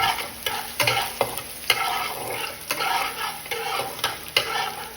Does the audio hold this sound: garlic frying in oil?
yes